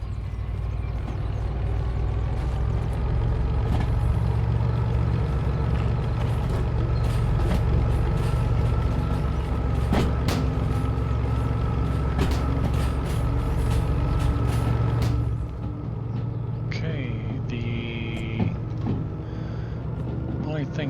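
Steady, heavy mechanical rumble and hiss of a steam locomotive starting up in the Derail Valley train game, with rhythmic clanks and ticks over it and a short tonal squeal near the end.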